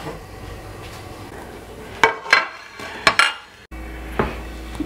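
Large metal cooking pot on the stove for boiling zucchini, handled with a few sharp clanks and scrapes of metal against metal over a soft background hiss.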